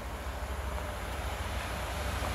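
A freight train headed by many locomotives passes with a steady, loud low rumble and broad roar for a couple of seconds, with no talking.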